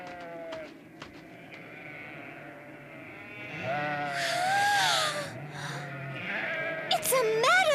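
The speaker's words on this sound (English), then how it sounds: "just look at all the fluffy sheep!" Cartoon sheep bleat in a meadow in an anime, several wavering baas overlapping over background music, with people talking through parts of it.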